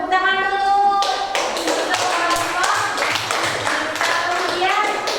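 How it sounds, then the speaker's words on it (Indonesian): Pupils in an elementary school classroom clap together, a run of sharp, quick hand claps after a short sung or spoken cue, with children's voices faintly underneath. "Tepuk tangan dulu."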